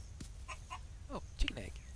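A Dinkum video game chicken gives soft, scattered clucks and chirps over a low background hum.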